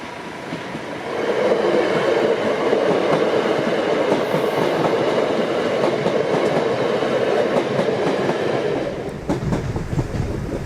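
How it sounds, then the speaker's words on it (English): A Southern service train heading for Southampton Central passes a Southampton level crossing, a loud, steady rumble with rail clatter that builds quickly, holds for several seconds and then eases off. "our first train at 1 minute 39 seconds into the closure is a southern service heading to terminate at Southampton Central"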